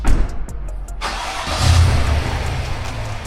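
A Cadillac Escalade engine cranks and catches, starting with a starter churn and then settling into a low rumbling idle that swells briefly, close by.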